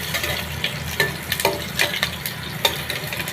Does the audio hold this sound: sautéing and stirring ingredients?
yes